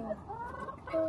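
Chickens cluck softly at close range in a brief, low-level burst of fowl calls.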